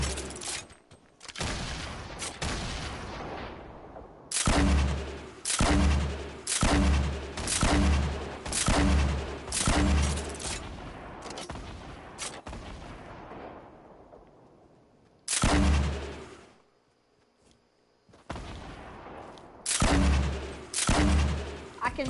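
Rapid bursts of gunfire and booming explosions from the video game Fortnite, loud and close, in repeated volleys separated by short pauses and a quieter gap near the end.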